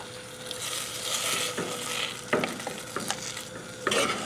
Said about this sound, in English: you need to make sure that you watch your cheese and stir your